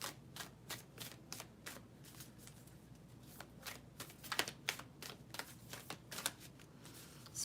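Guidance cards being shuffled by hand, a quick run of soft riffling snaps and taps repeating at an irregular rhythm, close and fairly quiet, with no talk.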